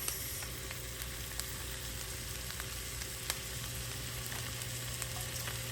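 Steady, close sizzle of ground beef frying in a pan with Tuscan heat spice blend, a continuous crackle with small pops and occasional stirring, no voices.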